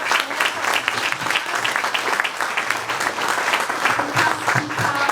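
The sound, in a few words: audience applause welcoming the speaker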